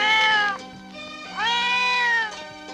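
A black cat meows twice, loud and close, in two long drawn-out wavering cries separated by a short pause, with no other sound around them.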